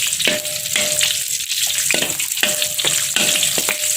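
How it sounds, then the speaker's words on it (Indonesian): Lemongrass and galangal stirred through hot vegetable oil, giving a steady close sizzle broken by repeated scraping strokes of the spoon about every half second, with no talk. "Selanjutnya kita masukkan yaitu serai dan lengkuas. Kita aduk."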